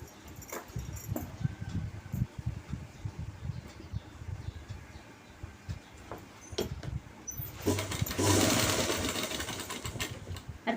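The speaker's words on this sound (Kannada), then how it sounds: "ಸ್ಟಿಚ್ ಮಾಡ್ತಿದ್ದೇನೆ" A sewing machine stitches a trouser belt piece in close, rapid mechanical bursts of needle clatter with short pauses between runs, ending in a louder, steadier whirring stretch.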